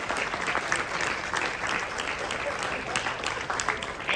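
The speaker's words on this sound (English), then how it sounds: "So give yourselves a round of applause." A large convention crowd claps continuously, a dense, even wash of applause from many hands that holds steady for several seconds.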